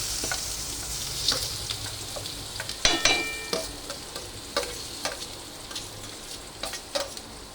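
Onion sizzling and frying in hot oil with mustard seeds, cumin, turmeric and hing, a continuous close hiss broken by frequent small pops and crackles and a few stirring clicks.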